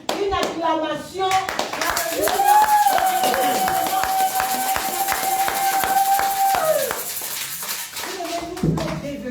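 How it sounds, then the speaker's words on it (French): Church congregation clapping and cheering in acclamation for Jesus, steady rhythmic applause mixed with voices and a sustained shout, loud and close throughout. "Je vais donner à Jésus une acclamation."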